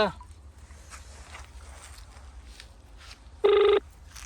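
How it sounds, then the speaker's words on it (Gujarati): Telephone rings once with a short electronic burst near the end, clear and close, over a quiet room with faint background voices and shuffling. "આ ફોન ઉપાડ દો."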